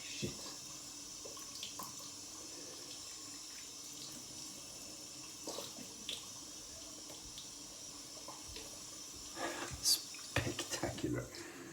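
A tap runs steadily into a sink to rinse a Japanese frameback straight razor of silver steel, a constant close hiss with brief clinks and splashes near the end.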